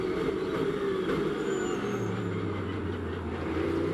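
A Mercedes GT race car brakes into a turn during a Blancpain GT Series Sprint Cup race at the Nürburgring, its engine note dropping steadily under continuous loud mechanical noise, with no talking.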